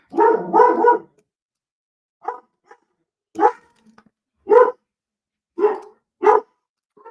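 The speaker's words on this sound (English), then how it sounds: "Dog is barking." A dog barks indoors, a quick burst of two or three barks followed by single, well-separated barks spread over several seconds, close and clear against near silence.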